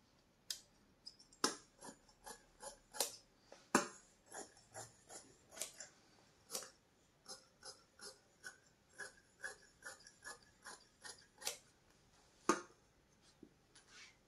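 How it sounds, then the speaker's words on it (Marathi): Scissors cut a cross strip of blouse fabric in quick, crisp snips, a series of close, dry clicks with short pauses between them. "तर लगेच आपण क्रॉस पट्टी पण कट करून घेऊ।"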